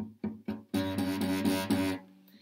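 Guitar strings fretted too lightly while playing a riff give a few plucked notes followed by a buzzy, rattling sustained chord that fades out, close and moderately quiet with no talking.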